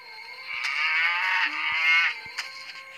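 Cartoon cows let out a long, drawn-out moo inside the Dumb Ways to Die 2 mobile game, a steady tonal call lasting a couple of seconds, broken by a few soft taps and thumps from the game.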